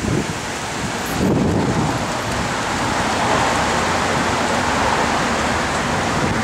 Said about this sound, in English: it's just windy as heck out here